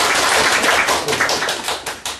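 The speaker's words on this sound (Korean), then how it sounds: "박수 한번." Dense, loud applause from an audience at a community film screening and talk, steady clapping filling the room for a couple of seconds, no voices.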